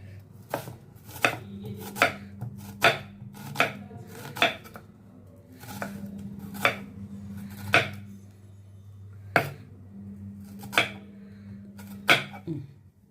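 Vegetables are cut with a knife on a board for the tempering of a mutton keema sambar: a dozen or so crisp, sharp chops come in uneven bursts over a low steady kitchen hum, close and clear.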